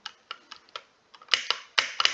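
A faulty computer keyboard clatters through a quick run of sharp keystrokes close up, a few light taps followed by heavier, louder presses near the end, with no voices.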